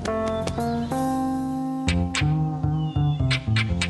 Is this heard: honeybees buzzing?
no